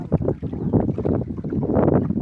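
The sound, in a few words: strong storm wind blowing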